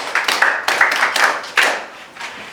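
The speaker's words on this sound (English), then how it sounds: "Please clap for him." A classroom claps briefly during a physics lesson, a short burst of scattered hand claps that fades out after about two seconds.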